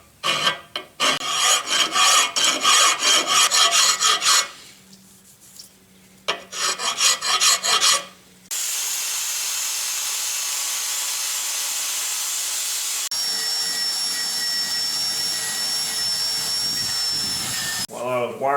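Wire brush rasping hard against a metal part of a Yates American B244 machine, loud and close, in long scrubbing bursts with short pauses, followed by a steady mechanical whine.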